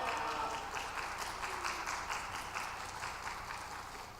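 A church congregation claps steadily for several seconds in a hall, a dense even patter of many hands at moderate distance that slowly fades a little.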